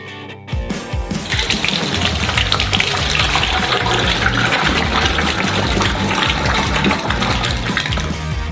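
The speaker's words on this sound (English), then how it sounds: "Pour half of it into another saucepan." Hot caramel pouring from one large saucepan into another in a big kitchen batch, a loud, steady gushing liquid stream that runs almost without break after a brief quiet start.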